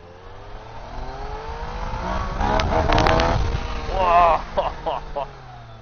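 A Yamaha Niken three-wheeled motorcycle engine revs up, swelling to a loud peak with rising pitch, then drops back in quick bursts as gears shift.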